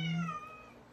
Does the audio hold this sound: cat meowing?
yes